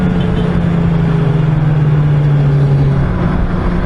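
A Honda CB650R motorcycle engine drones steadily at high revs while riding, a loud sustained tone under wind rush with no talking.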